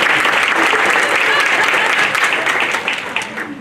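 A lunchtime audience at an election officials' legislative update meeting breaks into loud, close applause, dense clapping that stays strong and then thins and fades near the end.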